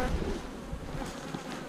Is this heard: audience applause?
no